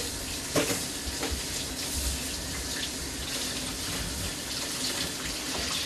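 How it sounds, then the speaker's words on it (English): Running tap water pours steadily over boneless skinless chicken breasts at a kitchen sink, a continuous close gush with small splashes and shifts as the meat is turned under the stream. "I have boneless, skinless chicken breasts. We're going to wash them off."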